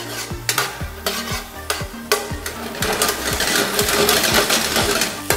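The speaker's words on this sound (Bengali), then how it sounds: "আদা রসুন বাটা দিয়ে খুব ভালো করে নেড়ে ভেজে নেওয়া হচ্ছে" Ginger garlic paste sizzles in a pan for clay pot chicken while a spoon scrapes and stirs in quick regular strokes, the frying hiss growing louder and denser toward the end, close up with no voices.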